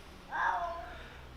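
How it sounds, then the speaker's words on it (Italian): A house cat lets out a single soft, drawn-out meow, faint and alone in a quiet room. "c'è il gatto"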